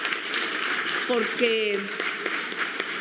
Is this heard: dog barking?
no